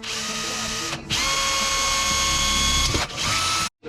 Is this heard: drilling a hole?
yes